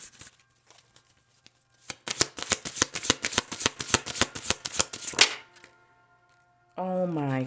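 A deck of oracle cards riffles in a rapid crisp burst of clicking snaps lasting about three seconds, followed by a short silence and then a voice speaking.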